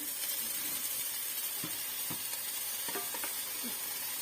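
Rice tipped into a hot frying pan for fried rice, giving a steady sizzle and hiss with a few short scraping, stirring clicks spread across the clip, close and moderately quiet, with no voices.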